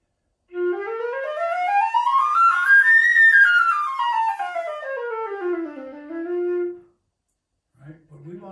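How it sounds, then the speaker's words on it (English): A breathy flute tone, played with an unchanged embouchure, slides steadily upward and back down in one long continuous sweep, airy and somewhat thin, with a brief faint sound after it. "If I didn't change my embouchure to accommodate the notes or the octave, it would sound something like this."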